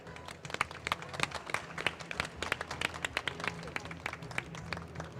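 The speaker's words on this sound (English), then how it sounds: "Please give applause to Spectrochip." At a startup competition stage event, an audience claps for an award winner. The applause is moderate and uneven, with distinct sharp individual claps standing out over a low crowd background.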